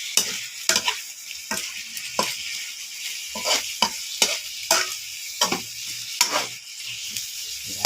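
Butter garlic prawns sizzle steadily in a pan while a utensil stirs them, giving repeated scraping strokes about once a second over the frying hiss, close and with no talk.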